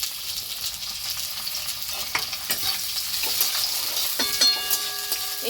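Chopped onions frying in a pan for a home-style chicken dish, a steady close sizzle with occasional stirring scrapes and clicks throughout, no voices.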